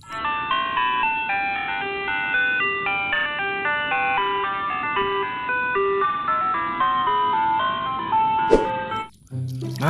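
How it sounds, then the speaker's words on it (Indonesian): A toy ice cream truck plays its jingle, a bright electronic tune of plinking notes running continuously and fairly loud, ending with a short clatter. "Wow, mobil es krim."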